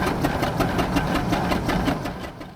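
Traction engines and other vintage vehicles at the Dorset Steam Fair chug steadily around the main arena, a loud, rapid, even mechanical beat that carries on without a break.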